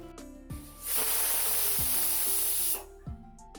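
A pressure cooker boiling water chestnuts vents its whistle, a loud sustained hiss of escaping steam lasting nearly two seconds between background noise and faint clicks.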